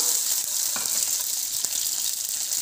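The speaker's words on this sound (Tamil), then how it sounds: "நம்ம பீஃபோட ஸ்டாக் எடுத்து வச்சுருக்கோம்ல, அதை விட்டுடலாம்" Beef stock poured into a pot of frying vegetables for soup: steady, bright hiss and sizzle throughout, with a few faint splashes and stirring clicks, fairly close, no talk.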